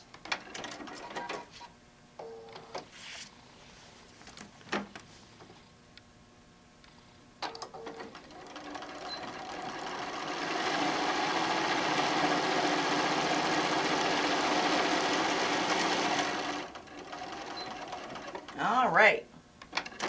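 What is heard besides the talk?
sewing machine stitching across wine bottle bag ends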